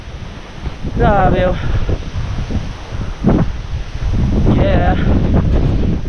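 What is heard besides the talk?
wind blowing outdoors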